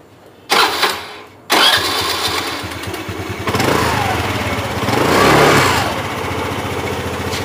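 A Honda Activa scooter engine turns over with a short starter whir, catches on the second try and settles into a steady, close idle that rises briefly with a small rev before evening out.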